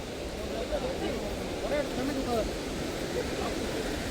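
Athirappalli waterfall in Kerala, a steady broadband roar of falling water that fills the whole clip, with talk and crowd voices running over it.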